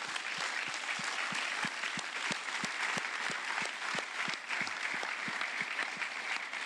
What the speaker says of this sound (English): I ask you to pay one big applause to these people who are sitting here